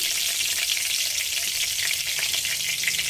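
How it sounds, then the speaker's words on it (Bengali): Cumin seeds sizzle in hot oil in a village kitchen as the tempering for an aar fish curry, a steady, loud, close frying hiss that holds evenly throughout with no voices. "তেলের মধ্যে দিয়ে দিচ্ছি আমি জিরে ফোড়ন"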